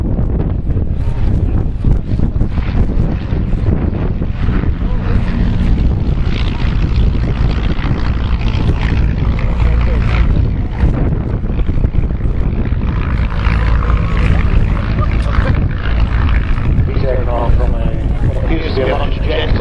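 Bristol F.2B fighter and Royal Aircraft Factory SE.5A, First World War RAF biplanes, flying at an air display, give a loud, steady engine and propeller drone with wind buffeting throughout.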